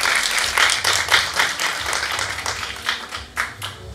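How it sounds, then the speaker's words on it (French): Applause at the MadaAllStar Awards 2022 ceremony, a moderate crowd clapping in uneven bursts with individual hand claps standing out, slightly thinning toward the end. "veuillez les applaudir s'il vous plaît"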